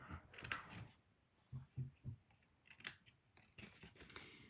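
Several crisp scissor snips cutting paper, close up, in a quick irregular series with short pauses between cuts.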